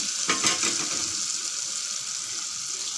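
Brinjal biryani masala sautés in a pan, giving a constant close sizzle with a few soft stirring scrapes early on, then settling into an even hiss.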